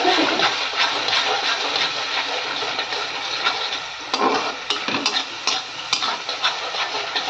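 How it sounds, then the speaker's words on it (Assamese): Ginger-garlic paste stir-fried in a pan for a dried yellow pea ghugni, a steady close sizzle with scraping stirs and a few sharper clatters toward the end. "অলপমান আদা নহৰুৰ পেষ্টটো অলপ ভাজি ল'ম।"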